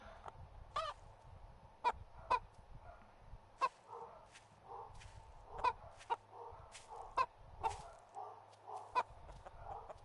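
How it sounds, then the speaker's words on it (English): A chicken in the survival game 7 Days to Die gives repeated short, faint clucks at irregular intervals over a low background hum, with no talking. "There's another chicken over here too."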